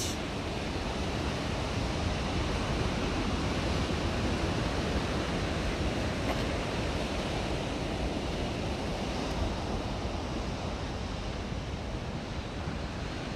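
Wild surf pounds a driftwood-strewn beach at Moonstone Beach, a dense, steady roar of breaking ocean waves with some wind noise, loud and continuous with no voices.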